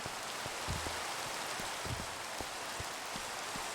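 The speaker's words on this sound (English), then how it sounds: "Oh, good, it's raining, so that'll also turn the rain off." Steady rain falls in the video game Minecraft, a constant hiss of drops with a few soft taps and thumps, and no other sound on top.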